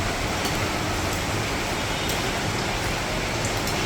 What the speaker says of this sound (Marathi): पाऊस अजून पण चालू आहे